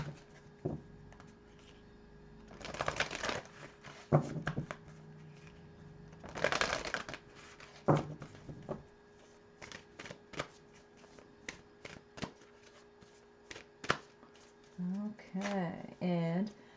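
Moonology oracle cards are shuffled and pulled in a quiet room, with several bursts of riffling and crisp card snaps and taps scattered across the clip, and a voice speaking briefly near the end.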